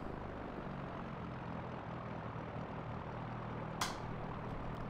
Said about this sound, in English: doing an intersection takeoff